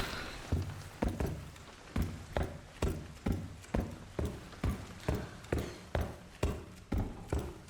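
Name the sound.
woman's heavy footsteps in the video game Resident Evil Requiem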